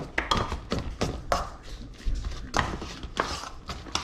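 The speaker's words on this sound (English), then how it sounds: "pushing the bottom of my spoon against the bowl to kind of break the lentils up and smush them a little bit" A spoon presses and mashes lentils with sun-dried tomato against a bowl, making a run of irregular clacks and scraping knocks at close range, with no talking.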